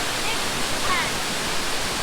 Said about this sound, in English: But another beautiful waterfall.